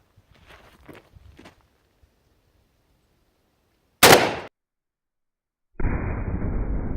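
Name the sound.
30-06 M2 ball rifle round shot into hard drives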